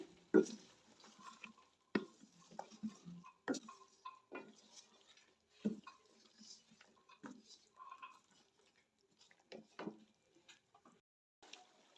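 A spoon stirring almond, cashew and poppy seed paste into a korma masala in a pan: soft, scattered scrapes and taps that are quiet and close, with brief pauses between strokes.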